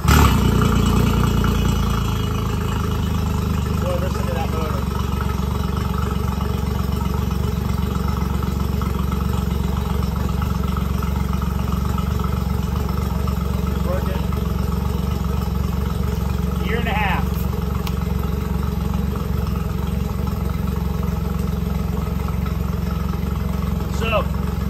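A 30hp Suzuki outboard motor on a 1971 13ft Boston Whaler runs at a steady idle with a low, even rumble and a faint rattle, close by and continuous throughout.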